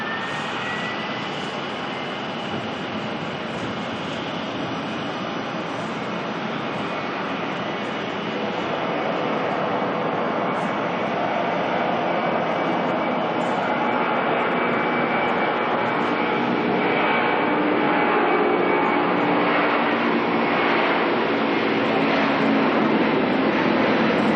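Jet engines of a Qantas Boeing 767 test plane roar continuously at Auckland airport, a loud broadband rumble with whining tones that grows slightly stronger as the run-up goes on.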